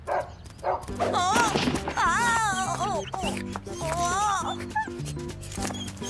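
A dog barks, yips and whimpers in repeated, fairly close bursts alongside someone speaking indoors, with background music playing underneath.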